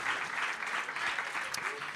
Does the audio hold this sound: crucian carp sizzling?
no